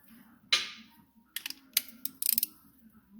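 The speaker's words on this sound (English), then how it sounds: "And a 1/2 inch ratchet. You can use a 3/8 ratchet. Just make sure they're really tight when you're done." A 1/2 inch ratchet tightens brake bolts on a Honda N600's front brakes, with a sharp clack followed by several quick bursts of ratcheting clicks, close and fairly quiet over a low background hum.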